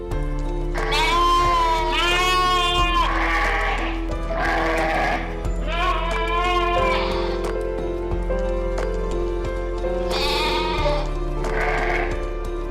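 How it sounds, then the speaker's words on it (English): A mother goat bleats again and again in loud, wavering cries, excited as she is reunited with her kids after weeks apart, with a steady low hum running underneath. "This is the goat's mom about to reunite her babies after weeks of not seeing them and can barely contain her excitement."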